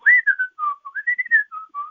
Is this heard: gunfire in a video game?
no